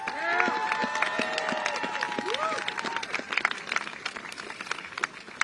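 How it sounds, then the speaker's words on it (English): Audience applause fills the space at a gathering, a dense, steady wash of many hands clapping close by, with cheering voices rising over it early on before the clapping thins slightly toward the end. "can we give them another round of applause"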